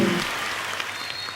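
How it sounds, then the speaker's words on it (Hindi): A studio audience claps at The Kapil Sharma Show, a dense, steady wash of applause that stays fairly even across the short stretch after a brief voice at the start. "तालियां जोरदार होनी चाहिए"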